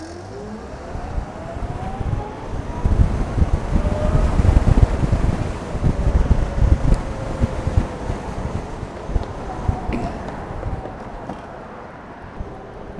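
A 2022 Alrendo Bravo TS 125cc-class motorcycle accelerates, its pitch climbing steadily through the gears, with heavy gusty wind noise buffeting the microphone throughout.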